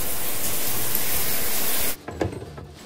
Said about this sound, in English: now let's get you in the shower and spray off all that ice cream and throw up